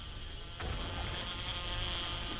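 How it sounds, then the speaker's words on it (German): Flies buzzing in the survival game 7 Days to Die, a steady close insect drone with a faint whine, growing a little louder partway through and continuing alone without talk. "Scheiß Fliegen."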